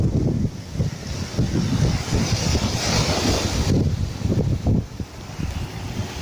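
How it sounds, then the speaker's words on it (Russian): Heavy surf pounds a beach in Saranda, Albania, in strong sea waves, loud and close with steady crashing wash and gusty wind buffeting the microphone throughout. "волны сильные-сильные"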